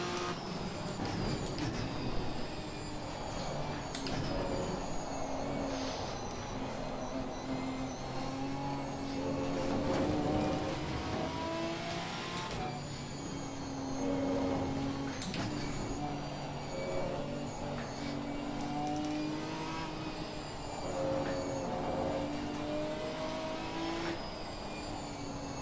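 Sim racing game engines drone and rise steadily with shifting pitch as a BMW race car closes in from behind, a continuous layered roar of several cars with periodic gear-change swells.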